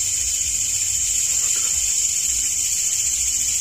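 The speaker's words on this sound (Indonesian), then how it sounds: "ini suara jangkrik kok anehnya semakin mengeras ini" Crickets chirp at an outdoor spot during a night ghost-hunting exploration, a steady, shrill, continuous drone that stays fairly constant in level with a low rumble underneath.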